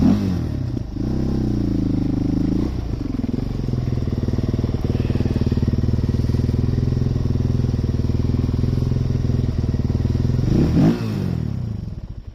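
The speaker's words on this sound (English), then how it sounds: "Not too often I get to ride them up onto the trailer." Suzuki LTZ400 quad's single-cylinder engine chugs steadily near the microphone as it is ridden onto a trailer, with throttle blips near the start and end over a constant idling thrum.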